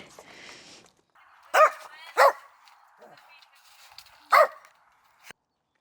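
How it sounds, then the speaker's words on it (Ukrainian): A dog barks three sharp times, spaced apart, amid quiet background sounds and faint murmuring. "на Євгена дома чекає собака."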